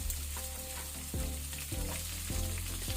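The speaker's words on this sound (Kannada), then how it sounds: "ಲೋ ಫ್ಲೇಮಲ್ಲಿ ನಾವು ಫ್ರೈ ಮಾಡ್ಕೊಳ್ಳುವ. ಈಗ ನಾನು 2 ಮೀಡಿಯಂ ಸೈಜ್ ಈರುಳ್ಳಿ ಅನಿಯನ್ ಹಾಕೊಳ್ತೇನೆ." Onions, cumin and garlic fry on a low flame for onion pulao, a loud, continuous close sizzle over a low hum, with several spatula scrapes and stirs against the pan.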